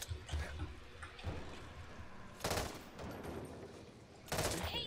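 Gunfire in the zombie shooter Back 4 Blood during combat, with bursts of automatic fire erupting in loud, dense volleys separated by stretches of rumbling action and ambient game noise.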